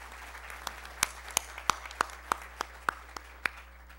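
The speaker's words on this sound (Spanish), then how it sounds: "Lo recibimos con un aplauso." Sparse, separate claps from a small conference audience greeting a speaker, roughly a dozen sharp hand claps at an uneven pace against a quiet hum.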